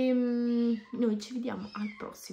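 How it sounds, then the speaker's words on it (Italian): A small kitten meows close by in a domestic room, its cries rising and falling under and between a woman's Italian speech. "Scusate il casino che fa il gattino"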